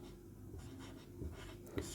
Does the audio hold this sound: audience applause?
no